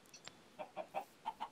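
Chickens in the Minecraft video game cluck in a short run of about six soft, evenly spaced calls, fairly quiet, with no talk over them.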